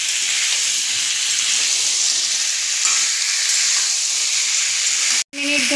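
Spice masala sautéing in a pan for Bengali potato curry, a loud, continuous close-up sizzle and hiss with faint stirring, briefly broken by a short gap near the end.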